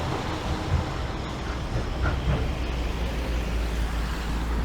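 A tram rolls past a tram stop on a Blackpool street, a steady low rumble with faint rail clatter, fairly close and continuous throughout.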